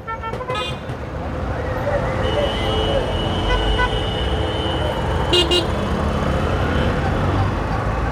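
A jammed city road, with a constant rumble of idling and creeping cars under several short, sharp horn toots, heard up close while someone talks.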